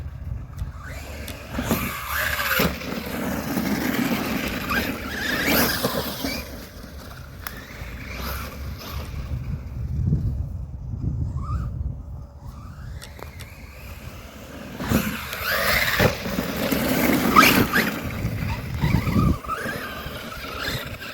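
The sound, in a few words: Arrma Vorteks RC car with Outcast wheels driving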